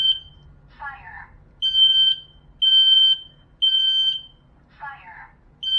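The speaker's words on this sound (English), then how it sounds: "The smoke detector takes a little bit." A home smoke alarm under test blares loud, piercing electronic beeps in long repeated pulses, with a voice calling out twice between them.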